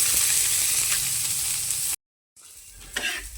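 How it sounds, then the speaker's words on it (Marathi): Onion fries in hot oil for a village-style fish curry, a bright loud sizzle that cuts out briefly, then returns quieter with a stirring scrape. "तेल टाकते थोडं कांदा भाजायला"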